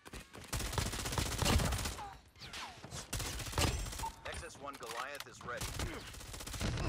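Rapid-fire FFAR 1 assault rifle shots in COD Mobile during a multiplayer match, dense bursts of automatic gunfire mixed with game effects and music, loud and continuous with brief lulls.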